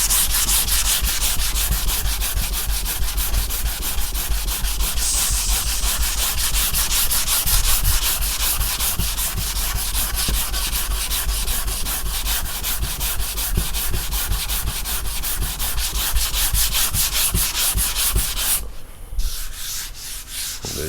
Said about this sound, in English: I just finished sanding everything